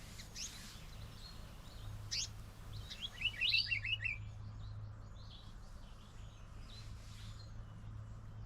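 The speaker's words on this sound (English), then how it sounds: "I'm sure that was a forester robin, if that's the right name." A forest robin sings close by, with a few bright chirps and short trills in a quiet wild setting under a steady low hum.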